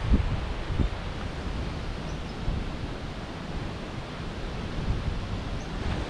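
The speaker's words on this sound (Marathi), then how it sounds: "हे जे पाणी उतरते आहे हे दाबोस्यालाच जाऊन भेटते आहे" Water flows downhill toward Dabosa waterfall in the Jawhar hills, a steady, even rushing wash that holds at one level throughout with no voices.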